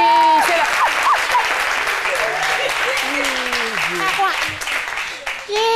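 A studio audience on a French-language Ivorian midday TV show applauds Méliane Cuny, steady dense clapping throughout with a presenter's voice and cheers riding over it before it fades at the end.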